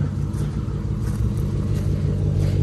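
A Dodge Charger with a custom dyno tune idles nearby, making a steady, loud, deep engine rumble that holds even throughout with no revving.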